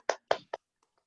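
A few sharp hand claps, three quick separate bursts, offered as a small round of applause for Jake during an online meeting, then quiet.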